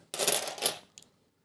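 A 2 euro coin drops onto a hard surface while a coin collection is sorted, giving a bright metallic clatter with a short ringing tail and one small bounce.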